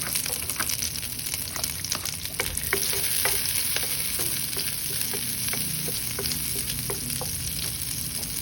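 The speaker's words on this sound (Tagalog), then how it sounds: "Add the butter. And then saute the garlic." Garlic sautéing in butter in a pan for ginataang crabs, a steady close sizzle with scattered crackles and pops throughout, no voices.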